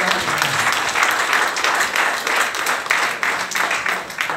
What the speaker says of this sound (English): And clap your hands.